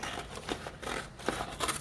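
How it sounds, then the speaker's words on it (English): Paper is cut with scissors at a desk, giving a quick series of crisp snips and rustles, close and moderately loud, with no talk. "Let's get some scissors."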